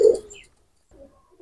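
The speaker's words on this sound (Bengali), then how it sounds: "এই এক পেয়ার প্রিন্স কামাগার রানিং কবুতর, দুইটা কবুতর নরমাদি" A pair of Prince Kamagar running pigeons, male and female: one brief close coo at the start, then softer, quieter low murmurs after a short pause.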